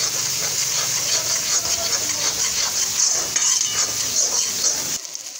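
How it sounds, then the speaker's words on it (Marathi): Black masala spice for a fish curry is stirred and fried in a hot pan, giving a steady, close sizzle with scraping stir strokes and light clinks of a utensil, fading near the end. "आता त्या मसाल्याला परतायचं, व्यवस्थित असं परतून घ्यायचं."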